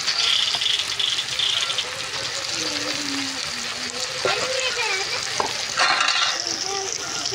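Spice paste with ground garlic stirred and frying in a pan for a Bengali chicken curry, a steady close sizzle with scraping and rattling of the spoon, faint talk now and then underneath.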